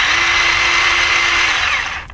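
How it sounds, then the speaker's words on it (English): A Milwaukee mini chainsaw runs steadily at full speed with a loud, even motor whine close by, then winds down near the end as it is switched off. "it's obviously going to be like a regular chainsaw, so you wanna hold it like this and"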